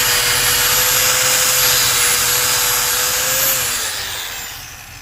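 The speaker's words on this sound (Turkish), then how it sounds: "Temizleme işlemini bu e, çanak burgu zımparayla, taş motoruyla bu şekilde" A loud, steady high-pitched whine of a die grinder running with a cup wire brush cleaning a boat hull, a harsh scratchy rasp layered on top, winding down near the end.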